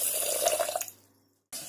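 A cup of water poured onto sugar in a wide bowl, a close splashing pour lasting under a second that quickly trails off into near silence before a brief burst of noise returns.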